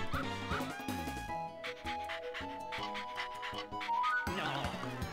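Cartoonish puppies in WarioWare Smooth Moves yip, bark and pant in quick bursts over bouncy game music, bright and close.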